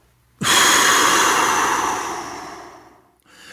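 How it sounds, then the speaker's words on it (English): A single deep breath pushed out through the mouth, a loud close airy exhale lasting nearly three seconds and fading gradually before a brief pause and the start of the next breath. "you're going to exhale through the mouth"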